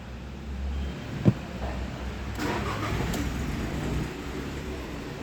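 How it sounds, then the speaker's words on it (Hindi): A car engine is started during a diagnostic check with a scan tool, giving a sharp click and then a low cranking and catching rumble that settles into a steady idle, alone without talk. "अगर हम इस गाड़ी को let's see if we start it"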